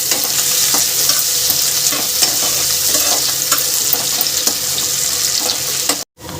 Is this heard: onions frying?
yes